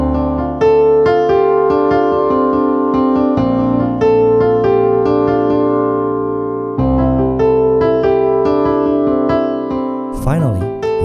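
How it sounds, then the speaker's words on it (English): A piano plays the synthesizer section of a song with both hands, steady repeated chords over a left-hand bass line, loud and close, with a brief sliding swoop near the end. "With hands together, the synthesizer section sounds like this."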